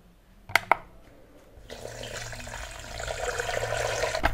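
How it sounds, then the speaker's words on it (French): Water pours into a pan to make a syrup for a chestnut dessert: two sharp clinks, then a steady stream of running liquid that builds gradually and keeps flowing to the end, fairly close and moderately quiet. "Et on va ajouter 400 g d'eau"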